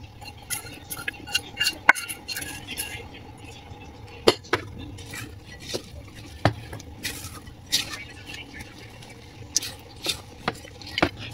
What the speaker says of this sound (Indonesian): Langsung aduk merata.